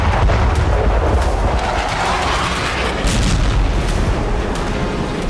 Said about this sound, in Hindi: पुतिन की सेना हर फ्रंट पर भीषण विस्फोट कर रही है।